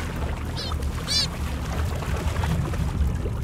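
Seabirds call over open water during fishing at sea, with two short, bright squawks early on against a constant low rush of water and engine, then only faint calls.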